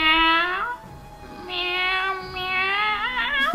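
A cat meows repeatedly in Layton's Mystery Journey, the video game, with three clear, drawn-out calls and a short rising call at the end. The cries are close and prominent, with no talk over them.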